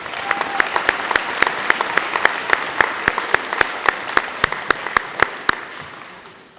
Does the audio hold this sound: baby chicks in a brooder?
no